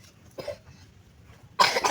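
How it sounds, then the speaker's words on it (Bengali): Two coughs, a quick dry one early and a sharper, louder burst near the end, with quiet between. "কি পরিমাণ কাশি হয়েছে।"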